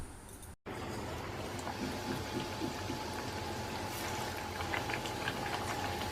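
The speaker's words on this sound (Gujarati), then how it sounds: "બેટરમાં બટાકાની સ્લાઇસને ડીપ કરીને ગરમ તેલમાં નાખીશું." Battered potato slices for bhajiya go into hot oil, and after a short cut near the start a close, steady sizzling and bubbling fills the rest of the clip.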